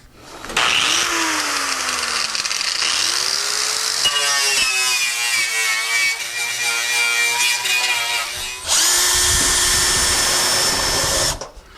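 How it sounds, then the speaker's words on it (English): A power wire brush scrubbing bare metal on a car floor pan during rust repair, a continuous whirring grind that shifts pitch as the tool loads and frees, cutting out briefly before a louder, harsher final burst. "We cleaned up the metal with the wire brush"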